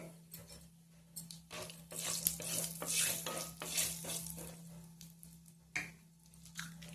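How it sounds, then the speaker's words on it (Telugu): Mustard seeds, cumin and urad dal sizzle and crackle in hot tempering oil in a pan, with soft spoon stirring and scraping, fairly quiet and close. "ఇప్పుడు మనం ఆవాలు, జీలకర్ర, మినపప్పు వేసుకుందాం తాలింపులో"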